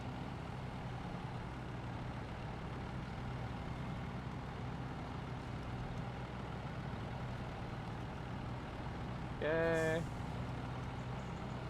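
Heavy truck engine in SnowRunner labouring steadily under load, a constant low drone throughout with a brief air-brake-like hiss near the end; a voice speaks briefly.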